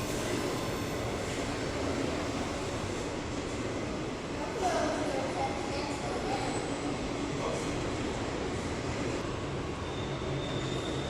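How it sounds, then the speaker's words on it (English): A Norfolk Southern freight train rolls past a former Northern Central station in the Harrisburg, Pennsylvania area, its steady rumble and wheel noise continuing throughout. A faint squeal rises briefly midway, and people talk under the train noise. "Got the Norfolk Southern going by."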